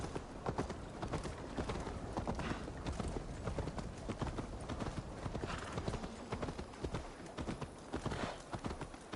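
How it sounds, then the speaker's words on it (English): Horse hooves clip-clop steadily in Assassin's Creed Valhalla, a continuous fast rhythm of hoofbeats that sounds close and fairly quiet, with a faint whinny mixed into the game audio. "Stop that horse!"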